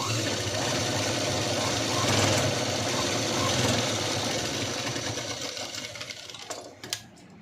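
A sewing machine runs steadily while stitching the front of a princess-cut V-neck blouse, a continuous close mechanical whir that tapers off near the end into a few brief knocks.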